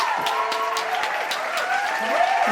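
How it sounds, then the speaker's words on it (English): A small podcast audience claps for a guest, a thin steady patter of applause with tonal voices and a faint hum running through it. "give a round of applause for Dayo Greenway"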